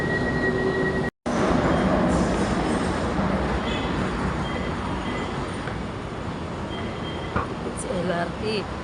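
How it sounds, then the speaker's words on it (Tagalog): An LRT light rail train runs toward Balintawak Station, a steady loud rumble of wheels and carriage noise from inside or beside the train, with a brief dropout, faint squeals and a short high chime near the end. "It's LRT."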